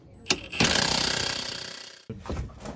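An impact wrench with a stacked extension hammers at bolts on the Bilstein coilovers of a 964 Turbo Porsche 911, giving a short rattling burst, then a longer loud sustained hammering run that stops abruptly before a brief final rattle.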